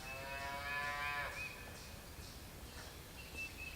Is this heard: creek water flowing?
no